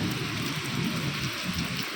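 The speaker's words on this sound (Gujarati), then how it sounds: "અત્યારે વરસાદ આવી રહ્યો છે" Heavy monsoon rain pours steadily in Bhavnagar, a dense continuous hiss of drops drumming on surfaces close by, even and unbroken with no voices.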